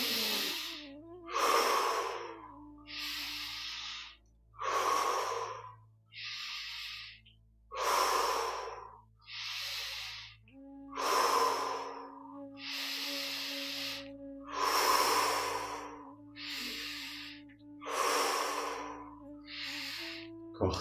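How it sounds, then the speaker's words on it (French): Slow, deep breaths during a guided meditation, drawn in through the nose and let out through the mouth, about ten steady cycles of close, clear breathing over a faint low hum, with no talking. "On inspire par le nez, on expire par la bouche"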